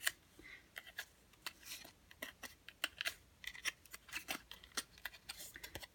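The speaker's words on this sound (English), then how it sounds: "I am going to punch these holes out with a little poker here" A small poker tool punches holes through a die-cut paper card, making soft, quick taps and crinkly pokes in an irregular series, close and faint with no talking.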